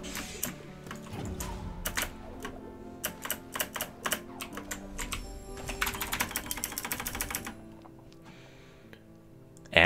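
Rapid keystrokes clatter on a computer keyboard close by, coming in uneven bursts that speed up into a dense run of clicks, then fall quiet before one last loud knock.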